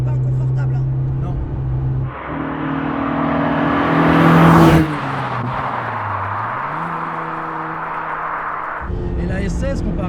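Peugeot 106 engine revving from inside the car: a steady drone climbs sharply to a loud peak, then falls back and holds at a lower, even hum before cutting off near the end.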